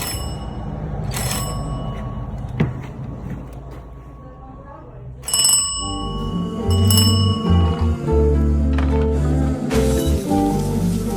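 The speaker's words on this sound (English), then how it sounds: "Still has the original doorbell." The original doorbell of an 1800s house in Galveston rings in a few separate bursts of bright, chiming tones over a steady background hum.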